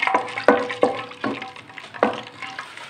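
Whole spices, including black and green cardamom, cinnamon pieces and cloves, fry in ghee with a soft sizzle. Several sharp clinks of a spoon against the pan recur at irregular intervals, close by.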